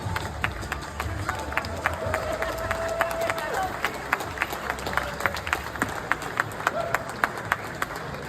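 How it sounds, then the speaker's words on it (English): Conference audience applause, steady clapping from a sizable crowd with some sharp individual claps standing out and a murmur of voices mixed in, moderately loud throughout. "let's go ahead and give them a round of applause."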